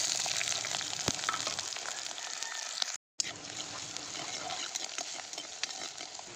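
Green chili, ginger and garlic sizzle and crackle steadily in hot mustard oil with popping mustard seeds, a dense continuous fry broken by a brief silent gap midway and a few sharp pops.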